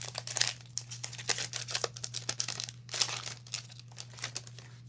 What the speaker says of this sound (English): I'll open this one, then I'll do another shuffle of card packs.